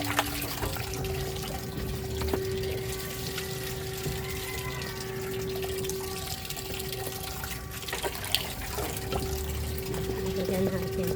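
Water from a garden hose sprays and splashes steadily onto plants, a continuous hiss and patter running the whole time with a faint tone underneath.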